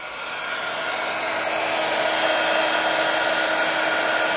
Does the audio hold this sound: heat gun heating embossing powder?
yes